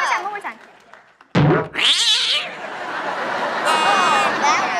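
Cats meow in a way meant to imitate a dog on a TV talk show, giving a few loud, rising meows and caterwauls with audience babble and chatter around them.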